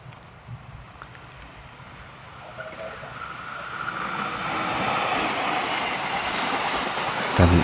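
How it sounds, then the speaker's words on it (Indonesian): A train runs along a seaside railway at Jodo beach, its rumble building steadily from quiet to loud as it draws near, with wheel rattle and a brief high squeal toward the end. "Dan inilah detik-detik ketika ada kereta melintas ya"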